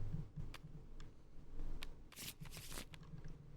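A deck of trading cards is shuffled during a tabletop card game, giving soft papery riffles and flutters in short bursts with quiet taps between them, close and fairly faint.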